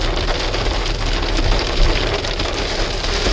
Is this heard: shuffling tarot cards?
no